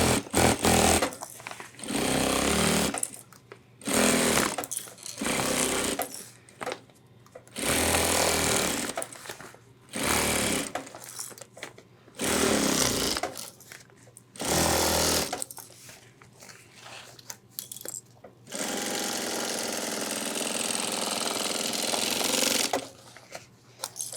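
A sewing machine stitches the side and front panels of a 30L ultralight hiking backpack together, running in close, loud bursts of rapid whirring broken by short pauses, ending in one longer continuous run.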